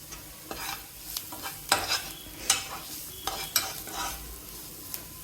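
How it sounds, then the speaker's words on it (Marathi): Spices stirred into vegetables for noodle soup, with a spatula scraping the pan in a steady series of strokes over a light sizzle; close and clear. "तर ते मसालेही छान प्रकारे मिक्स करून घेऊया."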